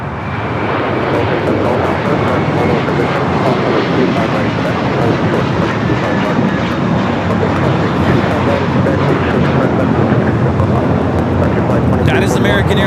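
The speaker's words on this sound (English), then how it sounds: "That is American Airlines 238 taking off the JFK on the 8321." American Airlines Airbus A321 taking off from Los Angeles International Airport bound for JFK, a constant broadband jet roar that stays loud and close throughout, with faint voices mixed underneath.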